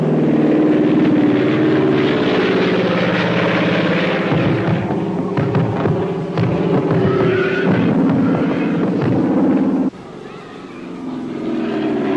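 Propeller airplane flying overhead during a supply drop, a loud steady engine drone that shifts in pitch and drops away near the end, with faint voices underneath.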